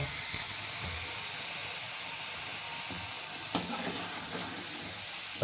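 Potato finger chips frying in oil in a pan, a continuous soft sizzle and hiss with occasional faint pops and stirring clicks, no talking.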